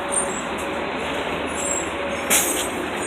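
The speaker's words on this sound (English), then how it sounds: "sounds like nice buses behind me there" A NICE bus passing on a suburban street in Greenvale, with a steady broad road roar and a brief hissing burst of air brakes near the end, heard nearby without talk.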